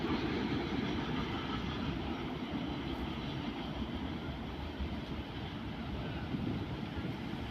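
A steady, heavy rumble of a freight train from Laem Chabang port to Lat Krabang ICD rolling past in Thailand, continuous and fairly loud, with no voices.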